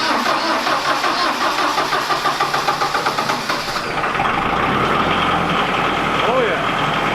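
An LS tractor's diesel engine cold-starts: steady loud cranking and rumble for nearly four seconds, then a smoother, continuous idle as it catches and runs on its own.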